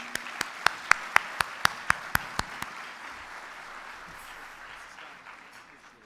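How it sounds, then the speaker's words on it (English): At a recognition lunch, about ten sharp, evenly spaced claps ring out close by for under three seconds, then fade into quiet room tone with no further clapping. "give yourselves a round of applause"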